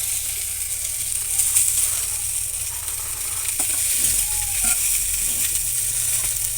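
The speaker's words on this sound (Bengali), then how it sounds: "এবার কড়াইয়ের মধ্যে এগুলোকে সুন্দর করে বসিয়ে দিচ্ছি" Chicken kathi kabab sizzles in a wok, giving a steady close frying hiss with a low rumbling hum underneath and a few faint clicks, no voices.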